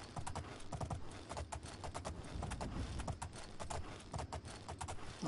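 Horse hooves clop in a steady, brisk rhythm while riding across the Cyrodiil countryside in the video game TES4 Oblivion, close and continuous over a low background with no speech.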